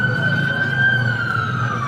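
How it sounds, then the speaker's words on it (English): An ambulance siren passes along a Times Square street, a steady loud wailing tone riding over a dense bed of city traffic rumble. "Somebody had to call the ambulance."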